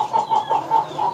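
Blorok chickens cluck in a coop, a steady run of about five close, moderately loud clucks in even rhythm with no talk.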